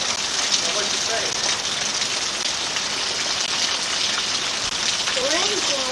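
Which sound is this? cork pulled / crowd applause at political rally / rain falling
rain falling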